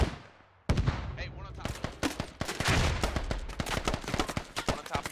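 Rapid gunfire in the Squad video game, in a forest setting: dense machine-gun bursts and single cracks, loud and near, crowding together with distant shots behind, with some talk mixed in.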